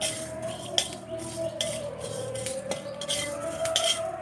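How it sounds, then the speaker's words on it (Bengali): Whole spices roast in a dry pan over low heat for a raw mango laddu, with repeated metallic spoon taps and scraping over a faint steady sizzle. "হালকা হিটে মশলা ভেজে নিতে হবে"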